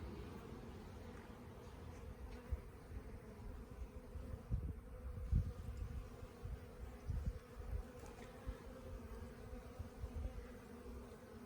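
Honey bees buzzing around an opened hive during a spring inspection, a continuous low droning swarm sound with individual bees passing near, steady and moderately quiet.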